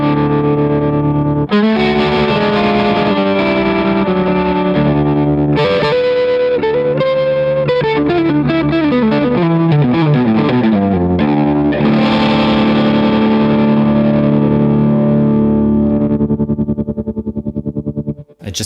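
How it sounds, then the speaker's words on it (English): A Tremuntana tremolo pedal at its fastest speed with reduced amplitude chops a distorted electric guitar into a rapid, fluttering pulse while chords and single notes ring out loud and continuous, with no talking. "Here's the fastest speed with a little bit less of amplitude."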